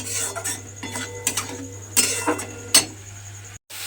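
Spices being stirred and fried in oil in a pan for an okra curry, with a spoon clinking and scraping against the pan in scattered bursts over a steady low hum, close by and with no talk.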